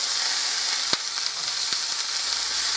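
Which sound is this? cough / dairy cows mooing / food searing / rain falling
food searing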